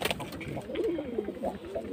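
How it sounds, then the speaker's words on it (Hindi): A Meem fighter pigeon coos in a few soft, rolling phrases close by, the throaty calls rising and falling over a faint background murmur. "ये भी फाइटर है हमारा, ज़बरदस्त कबूतर है, खूबसूरत भी है।"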